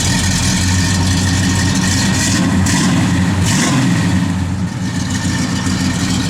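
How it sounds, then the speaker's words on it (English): A 1972 Oldsmobile 442 engine idles steadily up close, a continuous low rumble with a faint brief swell partway through. "Car sounds good."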